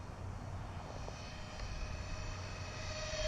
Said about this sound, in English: Try to do a somewhat low pass without getting too crazy.